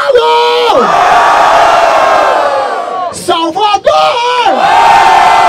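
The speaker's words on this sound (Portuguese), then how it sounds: "Barulho para as rimas de Apolo!" A rap battle crowd at a Batalha da Aldeia semifinal in Barueri, São Paulo roars loudly and steadily, with whoops and yells rising and falling together. There is a short dip near the end before the cheering surges again.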